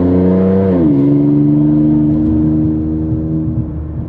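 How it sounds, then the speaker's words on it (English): An Infiniti Q50 Red Sport exhaust rumbles loudly with a sustained, deep drone, pitch dipping slightly early on then holding steady as the engine revs continuously nearby. "I'm trying to get exhaust audio, if that makes sense, or intake"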